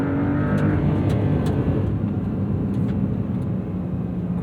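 A 2026 Porsche 911 Carrera T (992.2) with its flat-six engine drives along a canyon road, giving a loud, steady engine drone that eases slightly toward the end, with no talk.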